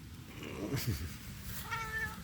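A cat meows several times at close range, a drawn-out, wavering cry followed by a higher, tonal meow.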